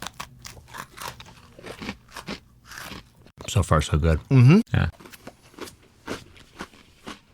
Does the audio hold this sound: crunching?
yes